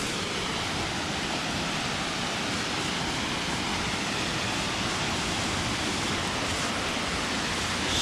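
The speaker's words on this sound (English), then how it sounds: "hopefully you can see the waterfall" A Vancouver Island waterfall in the woods roars as a steady, broad rush of falling water, constant and fairly close throughout.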